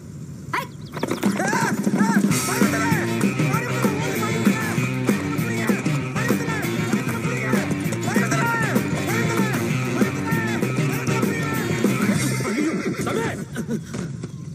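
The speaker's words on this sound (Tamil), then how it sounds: "குதிரை ஓட்டு அலெக்ஸ்" A horse neighs and whinnies repeatedly, loud and close, over steady hoofbeats clip-clopping throughout, with a film soundtrack bed underneath.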